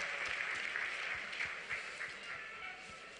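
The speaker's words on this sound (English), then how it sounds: "One more time, a round of applause for the Honorable Finance Minister." An audience claps for the Finance Minister at a youth dialogue gathering, a moderate, fairly distant patter of many hands that tapers off slightly toward the end, with faint individual claps standing out.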